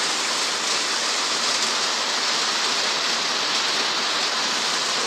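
Steady, dense rain pours down without a break, a loud continuous hiss of water.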